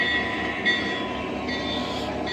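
An O scale model train runs steadily on an outdoor garden layout, a dense continuous rumble of wheels and motor with a sharp click near the start, close and fairly loud with no talk.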